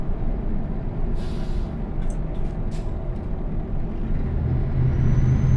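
A truck's air brakes in Euro Truck Simulator 2 give a few short hissing bursts over a steady, droning engine and road rumble. The sound is continuous and moderately loud.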